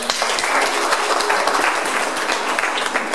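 A church congregation applauds together, a dense steady wash of many hands clapping at once for about three seconds, fairly loud and close, with no talking over it.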